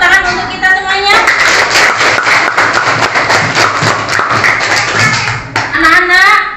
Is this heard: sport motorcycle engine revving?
no